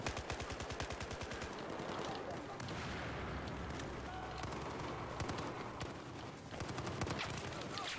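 Rapid automatic gunfire in the shooter game Battlefield 4 with a SCAR-H rifle, dense bursts of repeated shots rattling through a busy, noisy battle soundscape, with players talking over it.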